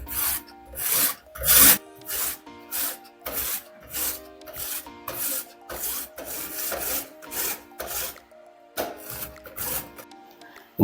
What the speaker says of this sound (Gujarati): હવે આપણે ગાજરને આવી રીતે છીણી લઈશું